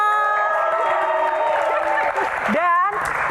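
A studio crowd at a dangdut music show claps and cheers loudly and steadily, with whoops and a voice rising over the applause near the end.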